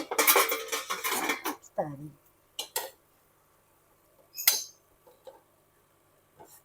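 A ladle stirring boondi in a covered pan on a low flame: clattering metal scrapes and clinks against the pan, a busy burst at first, then a few separate knocks with quiet gaps between.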